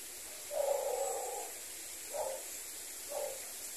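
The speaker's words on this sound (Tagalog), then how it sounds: "biglang kumahol yung aso" A dog barks somewhere in the distance, one longer muffled bark followed by two shorter ones, faint against a quiet outdoor background.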